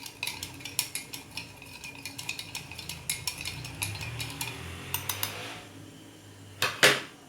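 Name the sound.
spoon stirring sugar and water in a dish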